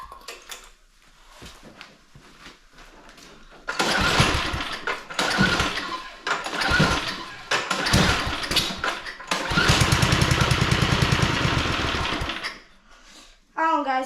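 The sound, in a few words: Spirit snowblower engine cranking and trying to run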